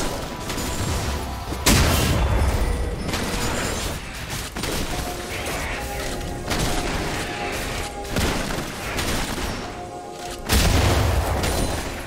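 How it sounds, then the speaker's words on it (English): A turret being destroyed in League of Legends: heavy explosive booms and crumbling impacts in several loud bursts over busy in-game effects, with no talk. "Team's turret has been destroyed."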